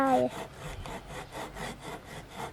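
Handsaw cutting wood during a school woodworking homework task, a rhythmic back-and-forth rasp of about six strokes, close and steady, after a brief voice at the start.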